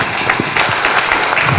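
Audience applause after a speech at a veterinary scientific symposium, a dense, steady patter of many hands clapping throughout a short burst.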